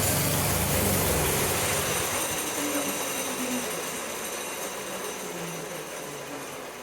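A 1972 Snow Shark snowblower engine runs loud and steady with a rough, broadband roar and faint shifting tones, the choke set slightly leaner, continuous throughout with no voices.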